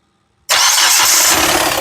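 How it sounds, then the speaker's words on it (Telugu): A 2019 Hyundai Creta SX Plus engine cranks and catches abruptly after a short silence, then settles into a loud, steady close-up idle with no voices. "మళ్ళీ ఒకసారి మీకోసం ఇంజన్ స్టార్ట్ చేసి చూపిస్తున్నాను స్టార్ట్ చేయి"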